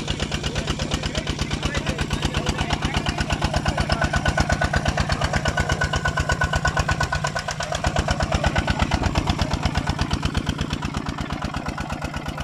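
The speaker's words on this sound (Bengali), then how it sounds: "ইঞ্জিনটি দিয়ে মোল্ডিং কাজ করছে।" A Kubota 155 Plus engine runs steadily at a brickfield, powering the mixing and moulding of clay, with a loud, close, evenly pulsing chug and a brief dip in the middle.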